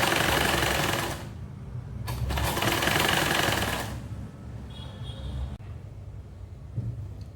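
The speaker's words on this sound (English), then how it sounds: "I'll go ahead and sew it down" A sewing machine stitching down a ruched skirt with half-inch elastic, running in loud continuous bursts with short pauses between them, close to the microphone, no talking.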